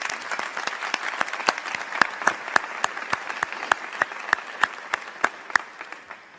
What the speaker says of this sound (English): I would ask that you join me in a round of applause for our new Chancellor